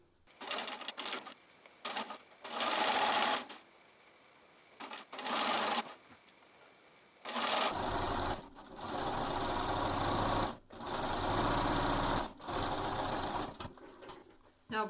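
A sewing machine stitches fabric for a mermaid tote bag in repeated runs, a few seconds each, loud and near, separated by brief pauses.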